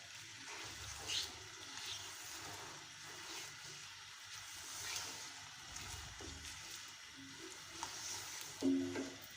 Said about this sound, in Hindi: अब हम चिकन को गोल्डन ब्राउन होने तक फ्राई करेंगे।